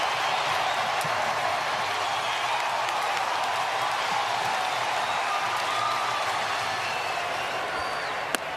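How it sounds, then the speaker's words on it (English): A large baseball stadium crowd at the Men's College World Series finals in Omaha cheers after a run scores in a 2-1 game, a broad, steady roar that holds for several seconds at close, full volume. "listen to the crowd in a 2-1 game"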